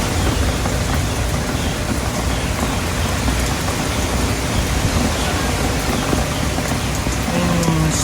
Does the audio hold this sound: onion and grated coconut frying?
no